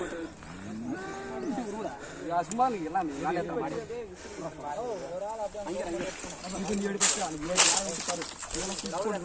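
Cattle at a 2024 bull race in Kolur low and moo repeatedly amid crowd noise, while a person talks over a loudspeaker almost continuously.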